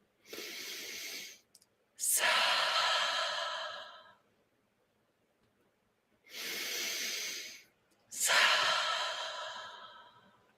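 Deep breaths during a meditation exercise: two paired cycles, each a long slow inhale and then a heavier drawn-out exhale, close and breathy, with silent gaps between them.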